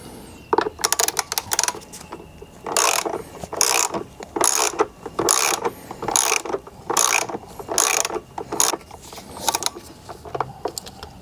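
A hand ratchet loosens a battery bolt on a Ford Ranger, giving close, crisp bursts of rapid clicking in a steady back-and-forth rhythm, about ten strokes in a row with short pauses between them.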